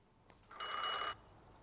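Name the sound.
telephone ringing in The Thaumaturge video game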